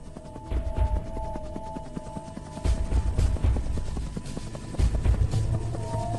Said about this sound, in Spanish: Los helicópteros traídos para evacuar a la gente atrapada solo pudieron transportar cadáveres